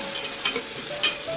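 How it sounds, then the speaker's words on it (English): Onions fry in a pan for spinach palak rice, a steady close sizzle broken by two brief scraping strokes of the spoon as they are mixed; no talking. "I'll just add half of the onions, and then I usually mix it up"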